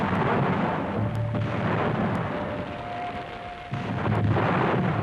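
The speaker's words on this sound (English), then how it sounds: "The cannon fire the cadets heard that night was at Newmarket." Heavy booms of cannon fire rolling in from far off, one after another over a constant low rumble, at a Battle of New Market re-enactment.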